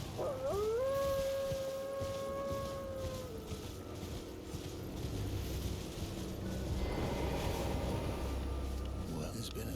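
A dog howls close by in a long rising and sustained wail lasting a few seconds, then trails off under steady background noise.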